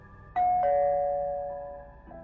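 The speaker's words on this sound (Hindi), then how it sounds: "तभी एक शाम मेरे घर की घंटी बजी।" A two-tone doorbell chime rings once, with a bright first note and a lower sustained second note fading out, followed by a soft click.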